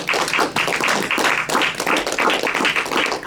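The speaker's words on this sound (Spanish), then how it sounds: "damos una ofrenda de palmas al Señor." A church congregation claps hands together, a close, dense burst of uneven clapping in a rhythmic, pulsing pattern lasting a few seconds, with no speech over it.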